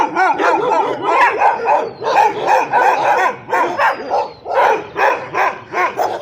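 Several dogs, including German Shepherds and Labradors, bark loudly and continuously, overlapping in a rapid, chaotic chorus with occasional yips, close by.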